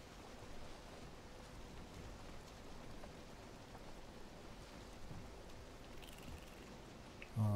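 Steady rain in the game Valheim pours down at nightfall in a dense, even hiss, with a faint rumble beneath; a brief louder thump lands at the very end.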